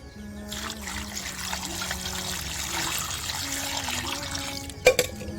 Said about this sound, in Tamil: இப்போ நல்லா வாஷ் பண்ணி எடுத்துக்கலாம் 3 டைம் 4 டைம்.